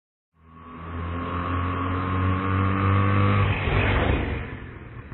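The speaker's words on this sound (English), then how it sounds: "A tuk-tuk looks like a motorbike with three wheels." A small tuk-tuk engine starts up and revs, its buzzing drone rising in pitch and loudness before settling back slightly.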